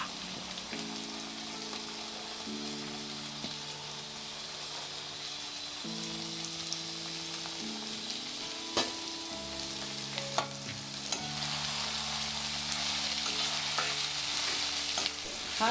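Chopped beans, carrots and potatoes frying with onion in a pan, a steady close sizzle with stirring scrapes and occasional utensil clinks throughout.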